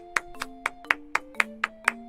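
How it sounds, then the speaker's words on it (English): A single person claps about eight sharp, evenly spaced times, close to the microphone, with a faint tonal hum underneath. "I think that deserves an applause."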